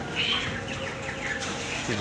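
Broiler chickens in a poultry farm shed give soft clucks and chirps under a steady low background hum, with no talk.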